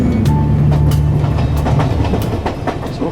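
A train travels along the rails in a loud, continuous rumble with rhythmic clickety-clack and scattered metallic clicks, close by and heard alone.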